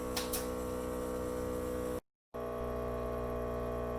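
A VIAIR onboard air compressor installed in a Sprinter van runs steadily, giving a continuous droning hum with a brief cutout partway before resuming at the same level.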